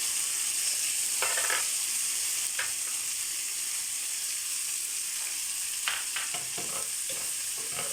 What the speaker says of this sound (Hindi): थोड़े से इसके साइड पे प्याज़ों को भी सौते करते हैं ताकि इनमें भी अच्छा सा फ्लेवर आ जाए